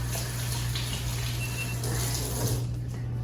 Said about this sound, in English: One more rinse, yeah.